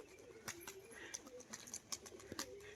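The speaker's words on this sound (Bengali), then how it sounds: "দেখুন পায়রা জোড়া এবার বাজি দেখিয়ে দেবো।" A pair of fancy pigeons cooing, low repeated coos close by with scattered light clicks and rustles in the background.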